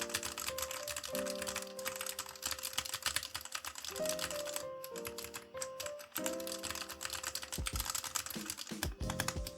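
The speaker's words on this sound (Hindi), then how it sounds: "ये था कीबोर्ड क्लिकिंग जो आपने सुना होगा" Steady, continuous keyboard typing with rapid clicking keys, fairly close, running alone with a faint tonal background hum.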